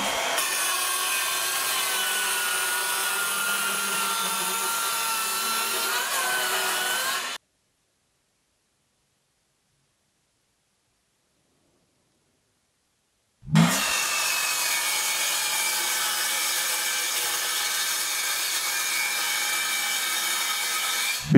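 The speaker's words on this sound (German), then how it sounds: "Und hier seht ihr übrigens das mit einem normalen Sägeblatt." Cordless circular saw fitted with a standard wood blade cutting through wood, a loud steady whine for several seconds, a break of silence, then a second cut just as loud and sustained.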